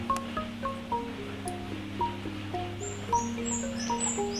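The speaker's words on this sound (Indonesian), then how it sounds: "sebenarnya burung ini sudah ngoceh sudah berbunyi" A pied fantail's chirps and short whistled notes repeat irregularly over a steady low hum and faint wind, with no one talking.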